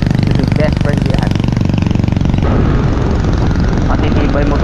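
A motorcycle engine runs loud and close on Simara Island, Romblon: a dense, rapidly pulsing rumble that shifts tone midway and keeps going throughout, with a voice mixed in.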